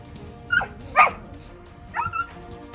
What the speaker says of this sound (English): This dog couldn't get out of the river and badly needed some help. It was yelping very sadly